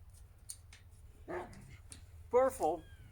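A dog barks in two short bursts, the second pair louder and closer, over a low steady rumble with some faint clicks and no voices.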